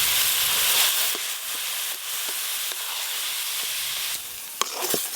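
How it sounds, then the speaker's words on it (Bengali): Grated beetroot, ginger, green chilli and lentil paste with salt and turmeric fry and hiss in a pan, a continuous sizzle broken by scattered scraping stirs and a sharper clack toward the end. "সব কিছু ভালো করে একসঙ্গে মিশিয়ে এইভাবে একটু নাড়তে থাকবো"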